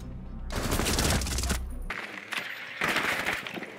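Rapid bursts of automatic gunfire in the video game Rainbow Six Siege, loud and close, two dense volleys separated by a brief break with cracking impacts.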